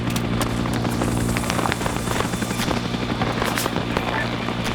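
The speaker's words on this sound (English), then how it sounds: "who's getting in that chopper? Get in that bird." A video game helicopter drones steadily and loudly with a continuous rotor thump throughout, with scattered sharp clicks and pops over it.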